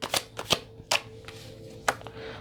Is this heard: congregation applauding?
no